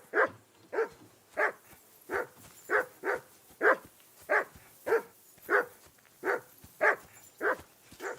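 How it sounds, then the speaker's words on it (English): A dog in the medieval video game Kingdom Come Deliverance 2 barks steadily and rhythmically, about a dozen evenly spaced barks at moderate distance with no talk over them. "I assume you can hear that damn dog of yours barking."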